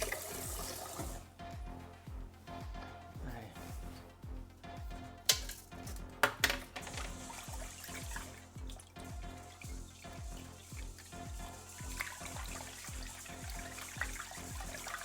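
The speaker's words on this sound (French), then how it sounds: "on rince le riz" Tap water runs into a sink while rice is rinsed for onigiri, a steady faint stream with sloshing and a few louder splashes and clinks partway through, no voices.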